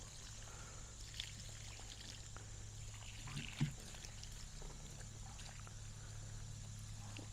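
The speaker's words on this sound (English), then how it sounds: "I'm just watering these in" Water poured from a hose or can onto newly planted pineapple slips, a faint, steady trickle and splash in the soil, close by, with no talk.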